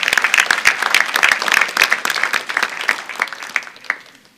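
A church congregation claps in praise during a Spanish-language sermon, a dense burst of many hands at full strength that thins and fades out near the end, with a few final claps trailing off.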